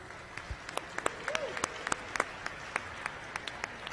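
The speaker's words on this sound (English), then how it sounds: "Can you clap and show me who you are?" Robotics teams at an opening ceremony clap in a scattered, sparse way, a few distinct claps ringing out individually over a quiet room, fairly faint and uneven throughout.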